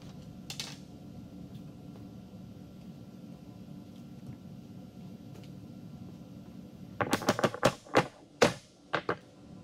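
Light taps on the sides of a silicone-caulked samurai sword mount come as a quick cluster of sharp clicks near the end, after a long stretch of low background hum and one early tap.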